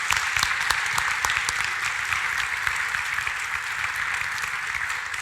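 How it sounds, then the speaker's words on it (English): Audience applause fills a room at a talk on game development in Bosnia and Herzegovina, a steady dense clapping held at an even loudness for about five seconds with no voices over it. "May I have a round of applause for this Made in Bosnia?"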